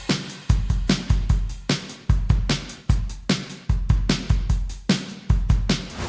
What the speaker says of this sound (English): With all that, here's what my drums sound like.